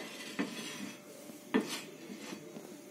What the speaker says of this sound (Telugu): స్టవ్ వెలిగించి పెనం పెడుతున్నాను